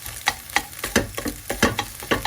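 Vegetables stir-frying in a wok pan sizzle constantly, broken by quick rhythmic scraping and tossing strokes about every quarter second, close and fairly loud with no voices.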